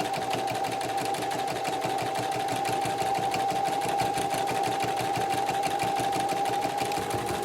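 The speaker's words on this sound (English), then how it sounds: "I just back stitched." A sewing machine stitches fabric for a key fob wristlet, a fast steady mechanical chatter with a constant motor hum, running loud and continuous up close with no talking.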